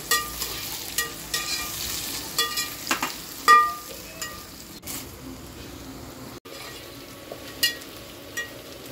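Onion, curry leaves and green chillies fry in a pan for paneer soya dum biryani, a soft steady sizzle punctuated by repeated clicking stirs and spatula taps, close by with no talking.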